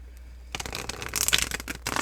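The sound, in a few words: tarot cards being shuffled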